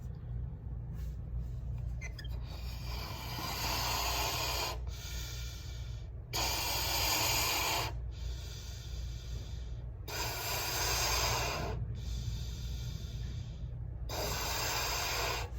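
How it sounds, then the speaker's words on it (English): A person blows up a balloon with repeated strong breaths, a series of long airy exhalations separated by short pauses over a steady low hum, close and fairly loud. "Now I'm gonna blow up the balloon."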